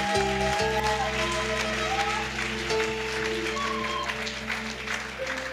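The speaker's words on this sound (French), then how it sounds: "Clap for Jesus." Congregation applauding inside a church during a worship service, steady clapping filling the room alongside sustained organ or keyboard tones.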